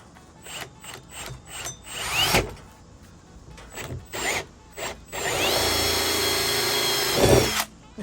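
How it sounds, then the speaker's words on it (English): A power drill whirs in several short bursts, then runs steadily into a barrel with a grinding, rising whine before stopping. "We're gonna drill ourselves a hole."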